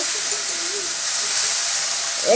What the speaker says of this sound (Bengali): কড়াইয়ের খুন্তিটা দেখছেন শব্দটা উঠছে কেমন